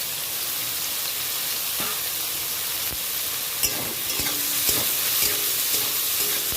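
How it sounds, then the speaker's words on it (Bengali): Eggplant pieces frying in a pan, a steady loud sizzle broadband and continuous, with occasional scrapes and clicks of a spatula stirring close by. "এবার বেগুনটা ভালো করে ভেজে নিতে হবে।"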